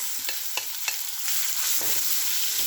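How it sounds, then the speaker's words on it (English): Chopped onions, ginger and finely chopped green chilies being stirred into hot oil, with a few sharp clinks of a spoon against the pan over a steady close sizzle that rises and stays constant. "Now I am adding the onions. Here chopped ginger and some finely chopped green chilies."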